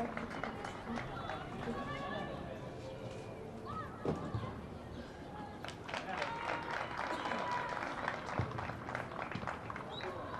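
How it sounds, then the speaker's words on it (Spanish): Home-stand crowd at a football match applauding the orange-clad team, a steady wash of clapping and crowd noise throughout, with a commentator talking over it. "el aplauso de la tribuna local, como siempre, como es habitual, para el conjunto naranja"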